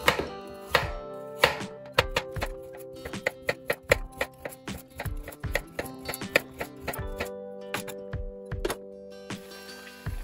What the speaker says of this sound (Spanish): Partiremos la zanahoria